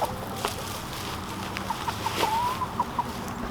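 Icelandic chickens make soft, scattered clucks and short calls at a moderate distance, over steady background noise on a farm.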